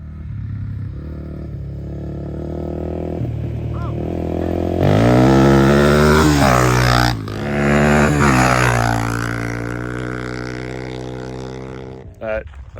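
A Honda XR400 dirt bike engine revs and accelerates loudly nearby during a race against an electric bike, rising to a strong roar midway then easing off, with a brief clatter at the end.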